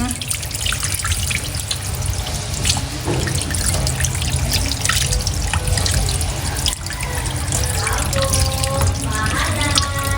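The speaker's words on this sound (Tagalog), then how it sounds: "Ito pong ating langis akin na rin pong huhugasan." Radish and mustard greens being rinsed under a running kitchen tap, a steady close stream of water with splashing and dripping as the vegetables are rubbed clean; a voice talks faintly in the background.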